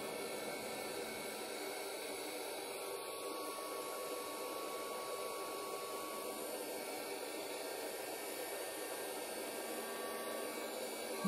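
A heat gun running at a craft table while making a Christmas card, producing a steady, even blowing hiss like a hair dryer, constant and moderately loud with no talk over it.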